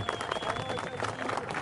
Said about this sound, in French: Donc je vous demanderai à tous de l'applaudir, s'il vous plaît.